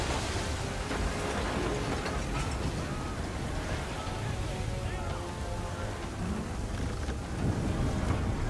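Stormy sea aboard a sailing ship in Assassin's Creed 3: loud, continuous wind and crashing waves roar throughout, with voices faintly heard beneath the din.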